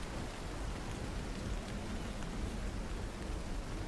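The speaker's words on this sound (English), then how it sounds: "Emmy actually seems like she really likes the rain, like the water." Steady rain falls in a broad, even hiss with soft patter on surfaces and a faint low rumble beneath, quiet and continuous with no voices.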